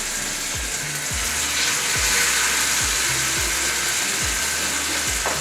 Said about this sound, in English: Get a sizzle.